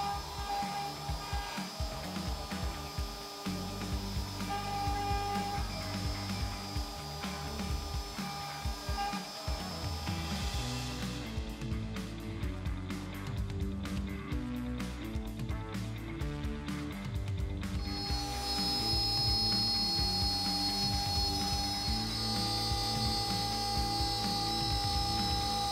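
A Woodsmith CNC router V-carves a koi into a wood panel, producing a continuous whining spindle tone over rough, shifting cutting and rasping, near and steady throughout with no voices.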